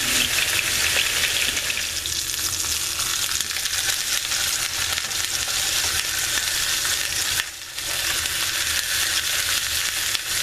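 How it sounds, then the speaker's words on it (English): About ten pork chops fry in a pan to brown on both sides, with a loud, dense, continuous sizzle that barely changes and dips only for a moment near the end. "I just want to fry these until they get nice and brown on both sides"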